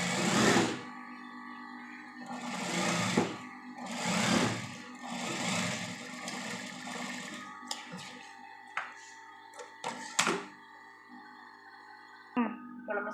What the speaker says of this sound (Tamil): இப்போ நான் ஸ்டிச் பண்ணிவிட்டு காட்டுறேன் பாருங்கள்.